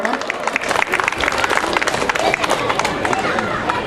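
An audience at a school event claps in a dense, continuous round of applause, loud and close, with crowd chatter mixed in.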